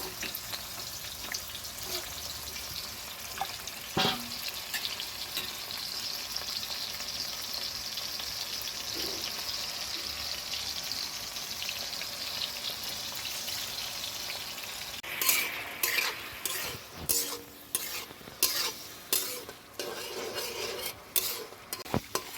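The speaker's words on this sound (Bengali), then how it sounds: "মাছগুলো ভেজে নেবো।" Shrimp fry in a pan with a quiet, steady sizzle, and in the final seconds a utensil stirs them in a series of sharp scrapes and clinks.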